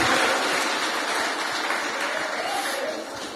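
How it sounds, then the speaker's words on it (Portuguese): A church congregation applauds in a dense, even wash of clapping that holds steady, then thins and fades slightly toward the end. No voices stand out above it. "Dá uma salva de palmas ao Senhor"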